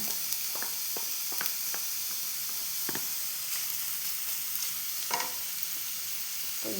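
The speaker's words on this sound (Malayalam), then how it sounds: "വെളിച്ചെണ്ണ കാഞ്ഞിട്ടുണ്ട് ഞാൻ ഇഞ്ചി ഇട്ട് കൊടുക്കുന്നുണ്ട്" Steady sizzling of ginger frying in hot coconut oil, with occasional sharper crackles and stirring clicks, close by and continuous.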